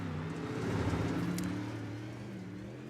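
A race car lapping the I-55 track during qualifying drones steadily at a distance, its engine tone swelling slightly and then fading as it runs through the turn.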